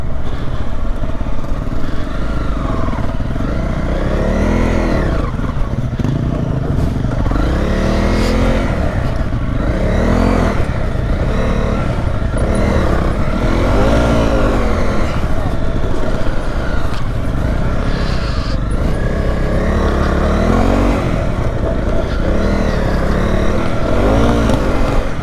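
Honda CRF 250 dirt bike ridden across moorland in North Yorkshire, its engine loud and close, revving up and down in repeated surges and sweeps throughout.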